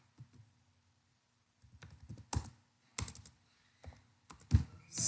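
Computer keyboard typing code: sparse bursts of clicky keystrokes in short clusters separated by quiet gaps, ending with a few sharper, louder key presses, close and alone.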